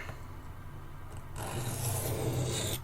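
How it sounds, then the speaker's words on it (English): A knife blade rasps across a diamond sharpening stone in a close, continuous scraping stroke that grows louder partway through, with no talking. "I want to do just a few strokes to kind of blend that bevel a bit."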